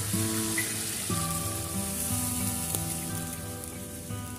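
Water is poured into a pan of cooking duck meat, giving a steady, fairly loud hissing rush throughout, with background music.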